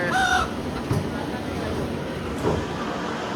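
Roosters cluck near the start, with a couple of faint knocks and a steady background hum; brief murmured voices may be present.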